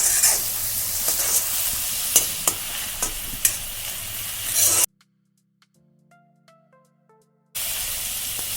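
Onions and curry leaves sizzle and fry in a hot pan with occasional stirring, a dense crackling hiss close by, cut by a short quiet break with a few soft musical tones before the sizzling resumes.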